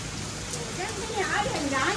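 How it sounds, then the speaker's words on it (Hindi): Heavy rain falls steadily as a dense, even hiss close by, and a voice talks over it the whole time. "देख रहे हो बारिश देखो कितनी जबरदस्त हो रही बारिश"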